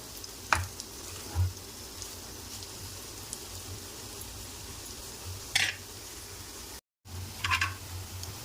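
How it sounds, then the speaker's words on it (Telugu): Carrot and beetroot pieces cook in a pan with a faint, steady sizzle, broken by a few sharp clinks of a utensil against the pan. "క్యారెట్ బీట్రూట్ ముక్కలు చూడండి ఎలా ఉడికిపోతున్నాయో"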